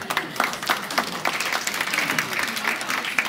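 Audience at a live economics book talk claps in a dense, moderately loud burst of applause, individual claps flickering through the steady crowd sound for a few seconds.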